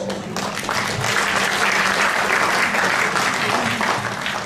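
Audience applause at a kolintang performance event for a group, dense sustained clapping from a large crowd that fills the whole stretch at a steady loud level.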